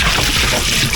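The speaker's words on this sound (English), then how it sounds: "that one really lets the water in" Water gushes hard into a sailboat hull through an open transducer hole, a dense, steady rushing and splashing that stays loud and close throughout.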